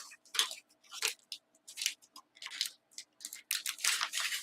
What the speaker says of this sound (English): I'm going to die cut these